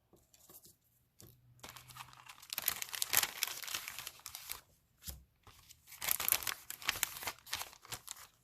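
Pre-cut paper and card-making supplies from a card class kit rustle and crinkle as they are handled close up, with bursts of crumpling and sliding separated by brief quiet pauses.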